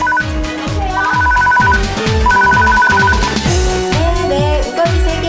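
A telephone rings repeatedly at a busy restaurant, its electronic trill repeating in short bursts over a clatter of kitchen activity and background noise.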